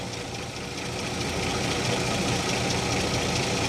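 A vintage Rolls-Royce 20/25 engine idles with its carburettor mixture screw set weak, a steady close-up mechanical drone with dense even rumble, slightly rising in level after the first second.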